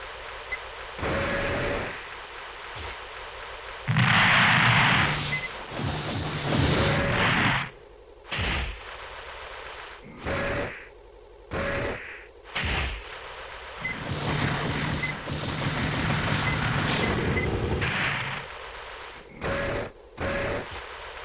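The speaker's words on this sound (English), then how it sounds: "Little pea shooter machine gun." Machine gun fire in the mech game Armored Core comes in repeated short and long bursts, loud rattling volleys separated by brief pauses, alongside other game effects.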